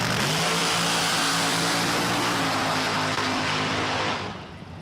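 A nitrous-assisted big block drag racing engine at a dragstrip roars loud and sustained at full power, a dense continuous blare close by that drops off abruptly near the end.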